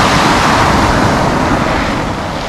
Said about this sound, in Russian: Море вот у нас сегодня такое.